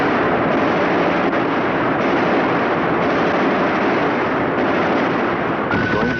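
A US Navy aircraft gun system fires continuously during a test, emptying the magazine into a target in one loud, dense, unbroken roar of rapid shots.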